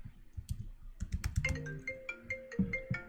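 A mobile phone ringtone breaks in with a bright, repeating electronic melody at moderate loudness, preceded by a few light keyboard taps and clicks, with no talking.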